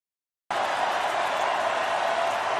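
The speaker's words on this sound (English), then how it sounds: "They're booing Musgrove." A large stadium crowd at an MLB postseason game boos Padres pitcher Musgrove, a dense, steady roar that starts abruptly and holds loud and unbroken throughout.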